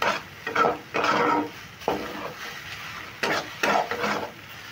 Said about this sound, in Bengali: গোলমরিচের গুঁড়োটাও আমি একটু ভালো করে মিশিয়ে নিচ্ছি